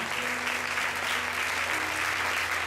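Steady applause from a church congregation during a sermon, a continuous dense wash of clapping that holds even and loud throughout with no gaps.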